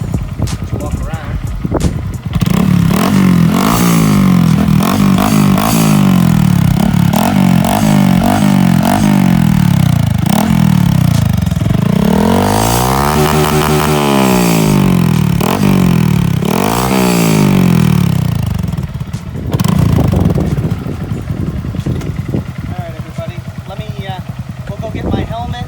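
A 2022 Honda Grom motorcycle fitted with an aftermarket Amazon exhaust with heat wrap idles, then is revved several times in rising and falling sweeps, loud and close, and settles back to a rough idle.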